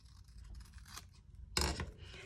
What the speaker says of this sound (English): I'm gonna trim this here like that.